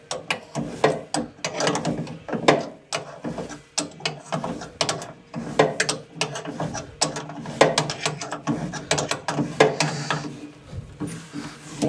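A ratchet tightens the gas block fitting on a condensing boiler, giving rapid clicking bursts with short pauses and metallic handling knocks, close and fairly loud.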